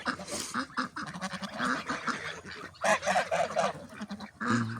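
A flock of large Ukrainian grey and white geese honks loudly in a yard alongside a few ducks, overlapping calls coming in rapid bursts close by.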